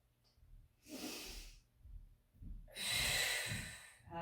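Two strong breaths during a postnatal Pilates mat workout, a shorter exhale followed by a longer, forceful one, close and clear with no talking.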